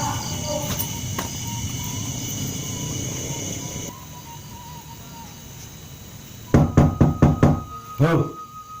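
A series of knocks on a door comes in quick bursts near the end, loud and close, after a stretch of quiet indoor ambience with faint insect chirping, in a Sundanese comedy film.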